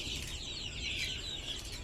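A crowd of baby chicks in a pen, native and black-boned chick breeds, cheeping in a dense, continuous high-pitched chorus close by, with no talking.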